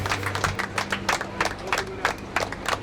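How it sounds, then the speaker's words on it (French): Supporters clap steadily for cyclists of the Team DEN squad walking back to their team bus after a race, a dense patter of many hands with a crowd murmur beneath. "Nos héros du jour, eux, rentrent au bus sous les applaudissements de leurs supporters."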